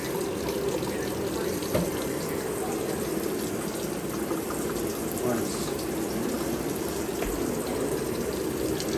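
Hot water runs from a tap after a frozen pipe has been thawed, a steady, continuous rush of flowing water lasting throughout, close and fairly loud, with a voice briefly over it.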